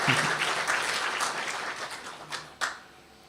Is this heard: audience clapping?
yes